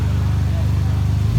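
A 2015 Jeep JK engine running on its factory muffler, giving a steady low exhaust drone that stays loud and close throughout, with a slight swell near the end and speech-like activity mixed in.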